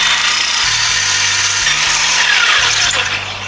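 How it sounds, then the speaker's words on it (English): A power drill whirs loudly and steadily while winding a trailer winch strap, the bit slipping in the chuck, its motor pitch stepping up and down in short bursts, with a grinding, rubbing edge throughout. "The drill slipping back in the chuck."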